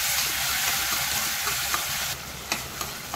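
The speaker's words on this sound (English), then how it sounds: "Saute it well." Tomatoes and onions sautéing in a pan for masala tomato rice: a dense, steady close sizzle throughout, with a few light stirring taps near the end.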